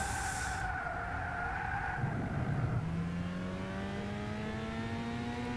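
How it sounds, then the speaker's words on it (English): Cars in a 400 PP Clubman Cup race in Gran Turismo 6 on PlayStation 3 produce tyre squeal as thin, sliding pitched tones over a steady engine roar, with a rising pitch sweep near the middle. "You can hear the tyres squealing."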